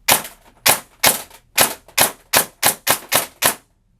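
Airsoft gun fitted with a SOLINK programmable brushless motor, firing 0.2 gram BBs: ten sharp, loud shots in a quick, slightly uneven rhythm, then silence.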